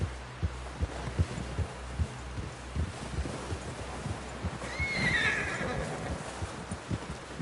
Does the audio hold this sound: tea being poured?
no